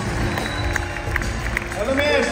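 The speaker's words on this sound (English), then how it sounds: "Give Olivia a round of applause" A theatre audience at an Oakland holiday concert claps and murmurs in a dense, continuous wash, with a voice talking over it near the end.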